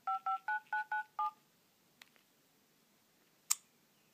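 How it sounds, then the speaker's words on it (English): Xperia S phone dialer pad tones: six quick evenly spaced dual-tone beeps in a row, followed by a few faint clicks and one sharper tap, all fairly quiet and with no voices. "We also get the Xperia S dialer pad."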